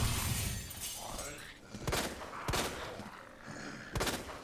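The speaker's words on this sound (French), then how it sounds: "Il a fait sauter la barricade" A barricade is blasted apart by gunfire in the Resident Evil 2 Remake video game, with several sharp, shattering bursts spread over a few seconds against a dense game soundscape, and a voice talks faintly in places.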